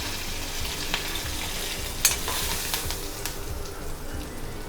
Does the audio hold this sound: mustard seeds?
yes